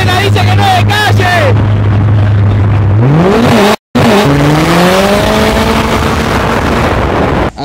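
A turbocharged VW Gol G3 engine revs hard and loud, holding a high drone before climbing in pitch, with a brief break and a squealing edge, close up.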